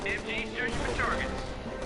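Machine gun fire in a World War II strategy video game, a continuous fast rattling burst heard close and loud over a busy battle soundscape.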